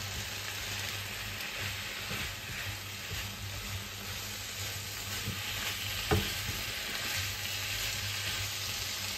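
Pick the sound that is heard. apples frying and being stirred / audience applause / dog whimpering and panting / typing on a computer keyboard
apples frying and being stirred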